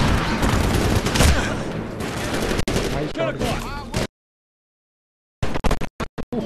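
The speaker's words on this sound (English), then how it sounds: "ये शॉटगन कुछ काम कर रही है" Shotgun gunfire in the shooter video game Medal of Honor Warfighter, dense loud firing and explosions for several seconds, a brief silence, then a quick burst of separate sharp shots.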